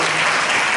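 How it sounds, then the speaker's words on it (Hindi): A congregation in church bursts into loud, dense applause for Jesus Christ, a brief, sustained roar of clapping hands filling the space. "जोरदार ताली बजाएंगे यीशु मसीह के लिए।"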